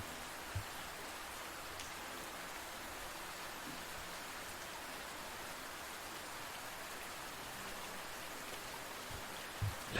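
Steady rain falls over a city at night onto wet pavements, a dense, even hiss that fills the scene with no voices and only a couple of faint knocks.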